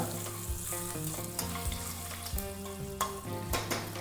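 Fennel seeds, a bay leaf and water-soaked whole spices frying and being stirred in a pan for onion- and garlic-free kushka rice, with a steady sizzle broken by repeated scraping strokes, close and alone.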